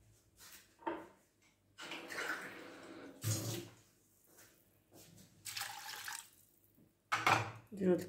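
A glass of water poured into a pot of browning onion and chicken, splashing and hissing in bursts close by, while someone talks over it.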